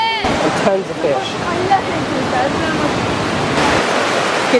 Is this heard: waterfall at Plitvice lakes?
yes